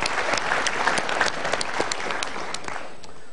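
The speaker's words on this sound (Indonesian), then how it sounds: "kita berikan tepuk tangan untuk pertanyaannya" Studio audience at a televised motivational talk show gives a round of applause, many hands clapping in a dense, crisp burst that holds steady for a few seconds before thinning slightly.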